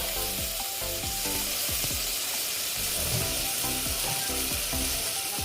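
Bitter gourd and potato curry sautéing in a pan after a splash of water, a steady close sizzle and hiss with repeated scraping stir strokes throughout, no voices.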